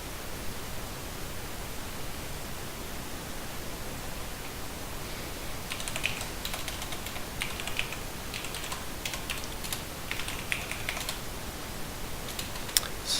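Keys tapped on a computer keyboard while entering commands in an Ubuntu server virtual machine, a quick burst of faint clicks over strong steady hiss, starting about halfway through.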